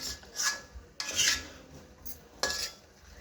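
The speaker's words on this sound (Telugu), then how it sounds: "5 మినిట్స్ తర్వాత మళ్ళీ మనం ఒకసారి బాగా మిక్స్ చేసుకోవాలి" Chicken fry being stirred in a pan with a metal spoon, giving three distinct bursts of scraping and clinking, close and fairly quiet, with no talk.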